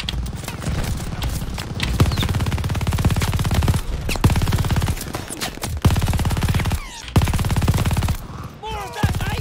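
Rapid bursts of machine gun fire in Call of Duty Vanguard crackle loudly over a dense, noisy battle din, with brief pauses between volleys.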